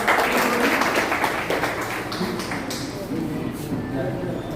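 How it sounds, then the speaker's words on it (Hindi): Crowd at a community meeting clapping for an elderly guest, dense sustained applause close by, gradually thinning, with voices underneath. "हम सबके बीच एक बार जोरदार तालियां जमकर"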